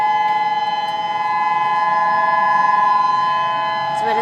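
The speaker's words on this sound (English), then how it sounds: "That's what a tsunami siren sounds like." A tsunami warning siren in Hawaii wails with a steady sustained tone that holds loud and continuous throughout, sounding from outdoors with a faint murmur of people underneath.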